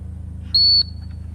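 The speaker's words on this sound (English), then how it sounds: "Amazing how sound can travel or not travel sometimes when you're blowing a whistle." A single short, shrill whistle blast at a retriever field trial, lasting about a quarter second over a low steady engine-like rumble.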